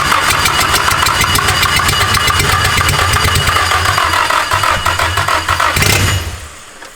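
A Nissan engine swapped into a Mazda Miata fires up for the first time with its ignition timing off. It runs loud and rough with a rapid pulsing beat, then cuts out and dies away.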